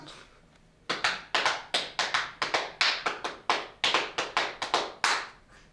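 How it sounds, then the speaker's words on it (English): Hands tap out a drum beat on a surface, about sixteen crisp, evenly loud slaps in a lively syncopated rhythm, close and dry, with no talking. "I would love for you to make me a sick drum beat right now"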